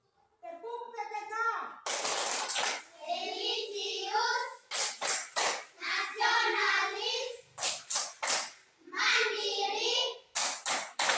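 Schoolchildren in a classroom chant a PPK clap cheer in unison, punctuating their spoken phrases with bursts of sharp, rhythmic group claps.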